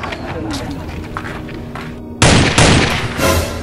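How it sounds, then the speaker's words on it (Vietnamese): Gunfire rattles in a shooting video game, a dense burst of loud rapid shots breaking in halfway after quieter rumbling combat noise, with voices in the mix. "Tiếng súng ở đâu nhỉ?"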